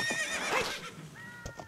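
Epona from Zelda: Ocarina of Time lets out a drawn-out, wavering whinny that fades into a shorter second call, with a few hoof clops near the end and no talking.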